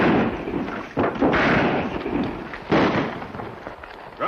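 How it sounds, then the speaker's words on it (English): Several loud gunshots in a Western drama crack out at intervals, with sharp bursts near the start, around one second, and again near three seconds, over a rumbling noisy background. "Those shots mean the outlaws are there and there's trouble"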